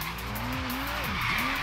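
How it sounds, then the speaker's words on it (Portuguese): An Aston Martin V12 Zagato drifting in Forza Horizon 3, its engine drone joined by tire squeal that rises and falls in pitch over a short skid, steady and close with no voices. "Toquezinho de drift."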